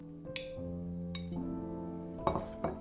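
A utensil clinks against a bowl while stirring lotus root batter, a few sharp bright taps with ringing tones lingering between them, close and clear with no speech.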